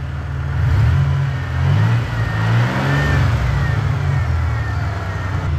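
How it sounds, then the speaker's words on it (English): A car engine revving as the accelerator is pressed, rising in two or three swells before settling into a steady idle-like drone, close and fairly loud. "Let's put our foot on the gas."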